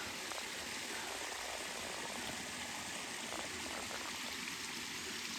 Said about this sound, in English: It's like a multi-tiered waterfall system.